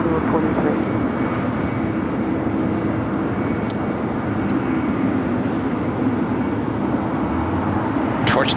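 An American Airlines plane landing on runway 25 left at LAX, a steady broad engine roar filling the whole stretch at constant loudness, with faint speech at moments.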